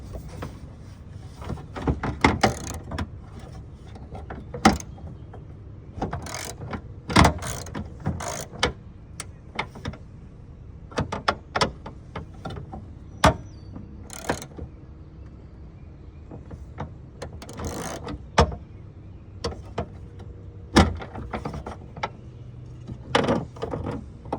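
A power tool working bolts loose on an S650 Mustang bumper, heard as intermittent short mechanical bursts and ratcheting clicks separated by quieter gaps, close up and with no talking.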